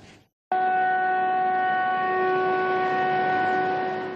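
A civil defense alert siren mounted on a building across the street in Tours, France, starts abruptly and then holds a loud, steady droning tone in a city neighbourhood.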